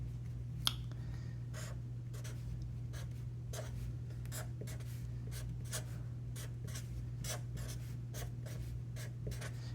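A pen or marker scratches out a rough sketch of a vector field in quick strokes, a string of close, light scraping bursts over a steady low electrical hum.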